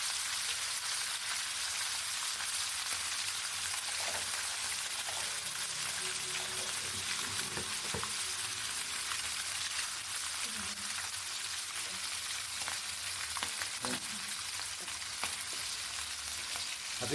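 Pomfret pepper fish pieces fry in a hot pan, giving a steady, dense sizzle throughout with faint stirring clicks and occasional small pops.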